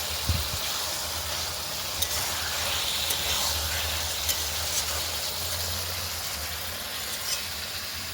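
Chicken pieces with turmeric frying in a pan, a continuous close sizzle with occasional sharp ticks and scrapes as the mix is stirred, low hum underneath.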